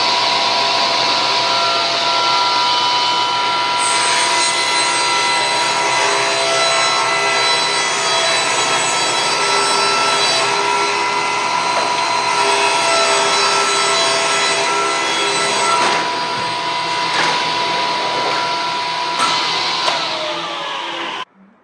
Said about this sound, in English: I'm going to now cut just those 3-inch strips